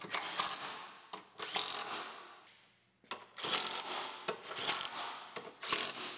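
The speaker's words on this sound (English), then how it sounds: "we can start bolting our struts in" Rapid ratchet clicking in several bursts with short pauses as car struts are bolted in on a cheap Pontiac Grand Am during reassembly, close and fairly loud, no voices.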